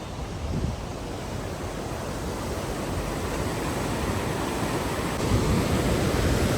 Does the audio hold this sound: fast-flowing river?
yes